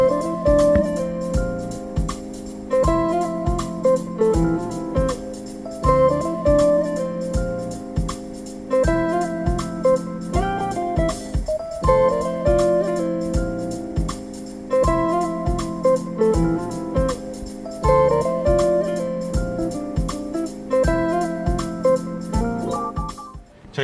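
A song with a steady repeating beat and layered melody plays through the factory speakers inside a Chevrolet Trailblazer RS cabin, loud and continuous, with no talking over it.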